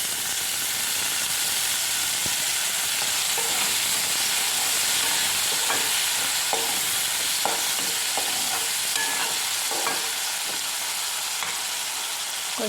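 Tomato pieces frying over onions in a pan for Maggi noodles, with a loud, continuous hissing sizzle and intermittent scrapes and clicks of stirring, close and steady throughout.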